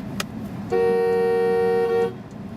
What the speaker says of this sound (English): is a very, very proud-sounding horn